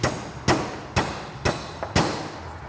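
A hammer taps a crankshaft bearing into its seat during a 1959-1977 Vespa 125/150 engine rebuild: five sharp, evenly spaced knocks about half a second apart, loud and close, with no voices.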